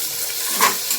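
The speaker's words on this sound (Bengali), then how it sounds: "পেঁয়াজটা ভাজা ভাজা হয়ে এসেছে, এখন আমি একটু বাটা মশলা দেব, আদা বাটা আর অল্প একটু রসুন বাটা" Chopped onion sizzles in a pan as ginger and garlic paste is added, a soft steady frying hiss with a brief louder spit of sizzle midway, close and without talk.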